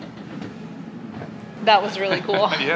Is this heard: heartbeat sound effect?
no